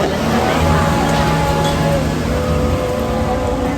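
Steady rain falls in Taiwan, a dense, even hiss of drops that holds at constant loudness throughout, with a faint tonal hum running beneath it.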